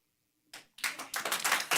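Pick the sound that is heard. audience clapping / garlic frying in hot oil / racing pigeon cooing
audience clapping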